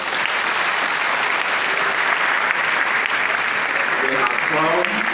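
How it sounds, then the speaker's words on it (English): An audience applauds a girls' school choir after a Hallelujah Chorus performance at DELSU Abraka: dense, steady clapping that fills the whole stretch, with a voice speaking over it near the end. "give this high school choir another round of applause"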